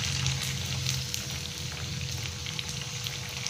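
Pempek fish cakes fry in hot oil, giving a steady close sizzle with crackling pops throughout and no talking.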